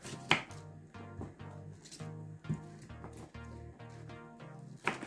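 A knife chops cabbage on a board for a vegetable soup, giving a quick series of close, crisp cuts in an even rhythm with short pauses, with no talk over it.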